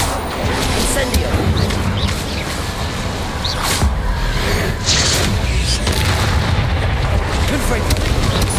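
Explosive spells such as Confringo, Incendio and Bombarda fire in quick succession in Hogwarts Legacy, producing a dense stream of loud booms and blasts while a voice calls out over the constant combat noise.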